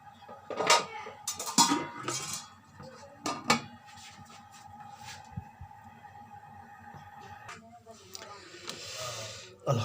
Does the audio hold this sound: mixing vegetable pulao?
yes